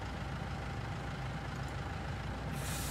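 A truck rumbles at idle while being moved off a platform at a corn dryer setup, a steady low engine drone ending in a sharp hiss of released air.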